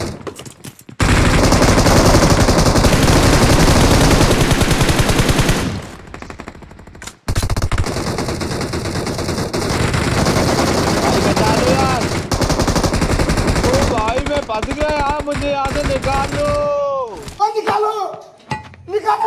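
Rapid automatic gunfire from a video game, loud bursts of machine-gun fire dominating the first half, then continued shooting with speech-like voices and in-game sounds over the top.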